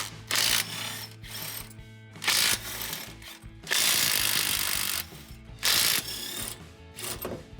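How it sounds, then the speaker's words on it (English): A hand ratchet with an 18mm socket works loose the steering box bolts on a Jeep Gladiator, giving several short bursts of quick clicking separated by pauses, close and clear with no talk. "Now we're gonna remove the 4 bolts that are holding in the steering box. This is an 18mm socket."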